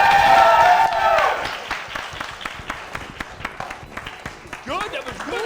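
Audience applause after a juggling act on a late-night show, scattered clapping in a room following a loud shout or cheer at the start, with voices talking over the thinning claps.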